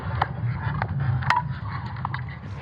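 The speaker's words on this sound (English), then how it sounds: "It's the sound of Earth's magnetic field." Earth's magnetic field signals from ESA satellites turned into sound: a continuous low rumbling crackle with scattered sharp pops and scrapes over about three seconds, with no voices.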